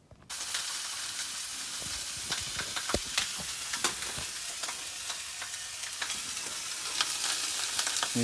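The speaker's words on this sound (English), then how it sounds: "Just sitting here waiting for our sausages to cook, camping style." Sausages sizzle and fry steadily in a pan at a campsite, a continuous close hiss broken by small pops and crackles, with no talking.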